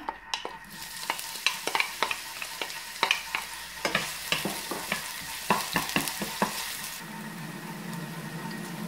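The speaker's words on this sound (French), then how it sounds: "On va commencer par faire revenir les oignons." Onions frying in extra virgin olive oil in a pan, a steady close sizzle with repeated sharp scraping clicks of stirring, the stirring stopping near the end as the sizzle continues alone.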